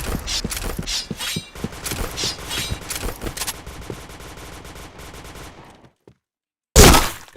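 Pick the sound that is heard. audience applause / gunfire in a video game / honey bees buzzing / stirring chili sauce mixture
gunfire in a video game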